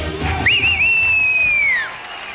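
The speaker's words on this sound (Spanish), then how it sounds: "Un gran aplauso para Xuxa." A TV telethon crowd applauds and cheers after Xuxa's performance at the 1990 Teletón Chile, with one long, loud, piercing whistle that holds a steady pitch for over a second above the broad wash of clapping.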